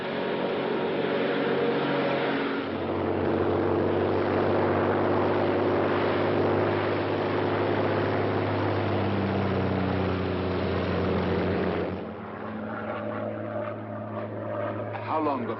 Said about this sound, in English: a Royal Air Force plane is waiting for us at a secret landing place.